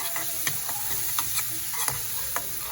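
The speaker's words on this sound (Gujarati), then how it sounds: "આપણે પહેલા મિક્સ કરી લઈશું આ બધા મસાલાને, નહીંતર બળી જશે." Spices fry and sizzle in a pan while a utensil stirs them, the steady hiss broken by several sharp scraping strokes at an even pace, close and fairly quiet.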